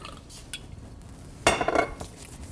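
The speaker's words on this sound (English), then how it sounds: "Put it into an oiled bowl." Dough dropped into an oiled bowl in a kitchen, a quiet handling bump followed by a short burst of clinking and scraping against the bowl, close and brief, with no talk.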